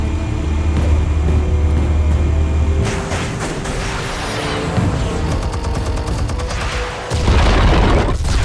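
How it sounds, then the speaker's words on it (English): A loud explosion in the video game Batman: The Telltale Series, with a heavy rumbling blast, crackling debris and a second deep boom near the end, no talk over it. "Explosives armed. Fire when ready."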